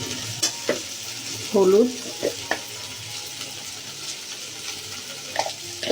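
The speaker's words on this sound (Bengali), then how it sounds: "টমেটো দিয়ে দিতেছি, টমেটোটা ভেজে নিই।" Tomatoes frying in a pan over a medium flame make a steady close sizzle, broken by stirring scrapes and clinks, with a brief spoken word early on.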